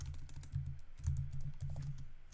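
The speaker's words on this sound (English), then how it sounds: "be ready because we got a lot of typing" Rapid, steady typing on a computer keyboard, keys clattering in quick uneven bursts with a soft low thump beneath, close and moderately quiet, with no voices.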